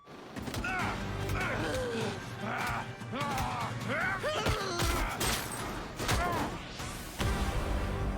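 Gunfire in the Monster Islands video game, a chaotic run of bangs, crashes and clattering impacts layered over game effects and shouting voices.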